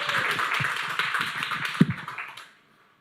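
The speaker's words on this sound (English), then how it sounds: "Give everybody a round of applause here." Applause from a small audience at a Native Edge Institute gathering in New York City, a steady dense patter of clapping that carries on for about two seconds and then stops abruptly.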